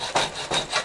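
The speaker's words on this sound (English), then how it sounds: "I'm going to have to file out the hole rather than, I don't want to drill it, so I've got to file it really" A hand file works out a hole in aluminium on a Yamaha XS650 motorcycle build, with three short, rasping strokes in a steady rhythm, close and clear.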